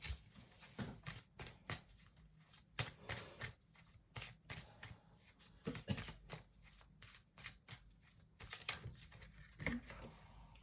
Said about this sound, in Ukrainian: карти летять.